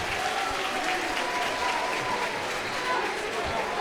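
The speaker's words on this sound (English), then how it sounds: "He'll get a nice round of applause." At a high school boys' varsity basketball game, the crowd gives a departing player a steady round of applause that fills the gym, with faint talk underneath.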